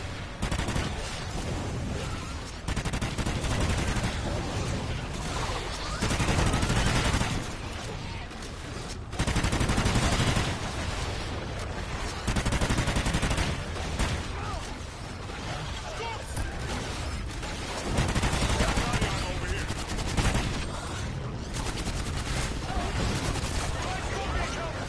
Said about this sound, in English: No, I mean just shoot it with your gun.